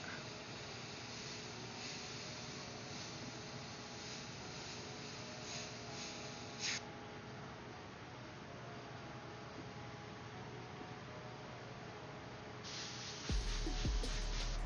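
Airbrush and compressor spraying paint onto a T-shirt, a steady broadband hiss running almost unbroken, with a brief louder burst and a low thump near the end.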